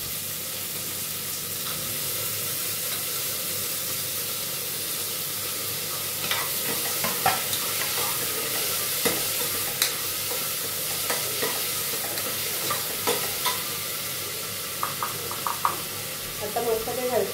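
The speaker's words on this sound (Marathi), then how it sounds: "टोमॅटो पण छान असा परतून घ्यायचा आहे." Chopped tomatoes stir-fried in a pan for a potato and pea curry give a constant, even sizzle, broken by intermittent scraping and clinking of a spoon stirring.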